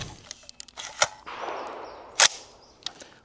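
A PSA Jakl fired through a Dead Air Mojave 45 silencer gives about three sharp, muffled cracks spaced roughly a second apart, with a short hissing rush between the first two and faint handling clicks around them.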